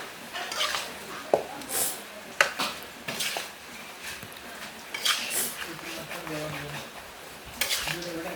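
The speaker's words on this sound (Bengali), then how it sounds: "এখন চিনি আর লবণটা ভালোভাবে মিশিয়ে নিচ্ছি" Sugar and salt stirred together in a bowl for chalta (elephant apple) pickle, giving intermittent scraping and clinking of a spoon against the dish, with quiet pauses between bursts.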